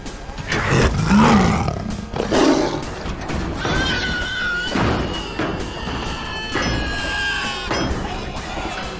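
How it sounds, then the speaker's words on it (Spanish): A loud, layered robot roar from RoboCop built from jaguar roars and pig squeals, with growling bursts and shrill squealing tones, repeated several times in a continuous, aggressive stretch. "Los rugidos que emitía eran los de un jaguar y los chillidos de un cerdo."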